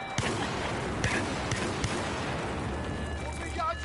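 Gunfire crackles through a Battlefield 4 firefight, with sharp scattered shots and distant booms over a dense, continuous battle din, while someone talks over the noise.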